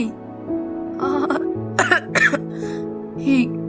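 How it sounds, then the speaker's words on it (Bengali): A man coughs and clears his throat several times in short bursts, close by, with a faint melodic background underneath. "কাশি"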